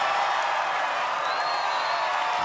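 A stadium crowd roars and cheers without letup for a competitor on a Ninja Warrior course, a dense wash of voices that holds steady for a couple of seconds.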